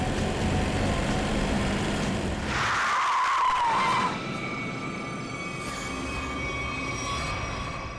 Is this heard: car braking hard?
yes